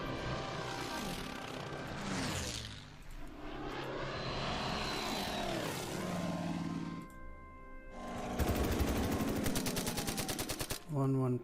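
Aircraft engines drone and whine in a video game air battle against a bomber, then rapid machine-gun bursts rattle loudly near the end.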